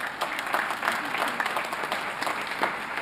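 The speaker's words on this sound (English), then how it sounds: "A little round of applause for his amazing intro." Warm audience applause at a Gaisce Gold Awards ceremony with the President of Ireland, a moderately sized crowd clapping steadily and continuously in a hall, without speech over it.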